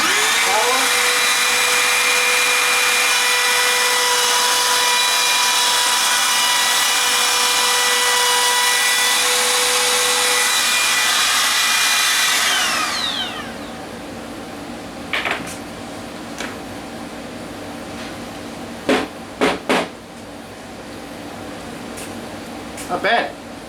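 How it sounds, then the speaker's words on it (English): A Makita 18 volt cordless trim router cuts wood with a loud, high whine for about twelve seconds, then winds down and stops. A person talks afterward while a few short clicks and knocks follow. "Not bad for a little tiny cordless router."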